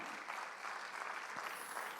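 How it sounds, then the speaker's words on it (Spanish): Steady, dense applause from a church congregation, continuous and fairly loud throughout with no pauses. "Fuerte ese aplauso al Rey."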